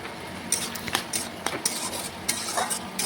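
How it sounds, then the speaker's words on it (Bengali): Fried soybean chunks being stirred with ridge gourd, potato and spices in a pan, with repeated scraping and clinking of a utensil against the metal over a soft sizzle, close and fairly quiet. "দিয়ে দিলাম ভেজে রাখা সয়াবিন, আর সয়াবিনটা এখন দিয়ে ভালোভাবে একটু কষে নেব"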